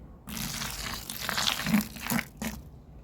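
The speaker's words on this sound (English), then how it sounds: "and a little bit of water to just start fluffing it up" Water poured into a compost bucket of dry bedding, a crinkling, splashing pour in a few bursts with brief pauses, close and fairly loud with no talk.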